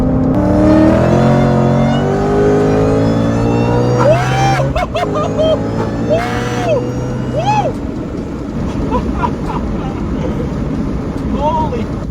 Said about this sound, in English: So a third gear pull.